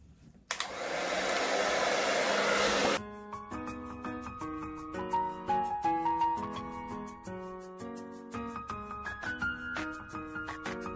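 A handheld hair dryer drying hair blasts loudly for a couple of seconds, then cuts off abruptly and gives way to a gentle melodic music track with no talking.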